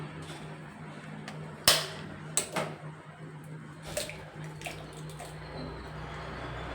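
Two eggs cracked and poured into a bowl: a few sharp, quiet taps followed by soft dripping and splashing in an otherwise hushed room.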